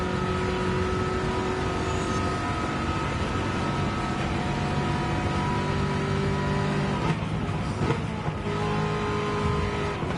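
Race car engine in Gran Turismo 7 during a Le Mans road car challenge, a loud sustained drone with gradual pitch shifts, briefly disturbed by a rougher burst near the end, with no speech.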